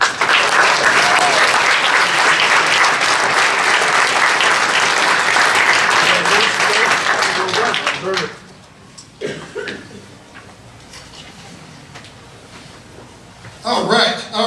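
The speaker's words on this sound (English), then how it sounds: "Give a round of applause to our Workhorse of the Year," Loud, dense applause for an award winner at a high school wrestling banquet, filling the room for about eight seconds before dropping away into scattered claps, murmuring and a few voices, with a brief burst of noise near the end.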